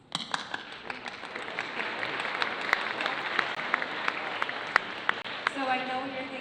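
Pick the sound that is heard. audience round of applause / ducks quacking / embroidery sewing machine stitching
audience round of applause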